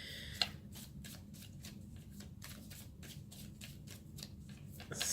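Tarot cards shuffled by hand in a rapid, steady riffle of soft papery flicks, close and quiet, with a louder snap of cards at the start and end.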